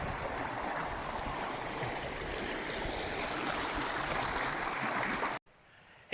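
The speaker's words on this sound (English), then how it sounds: "here we are, crossing the South Fork of the Kern River." Steady rushing water of the South Fork of the Kern River, loud and continuous, then cutting off abruptly near the end.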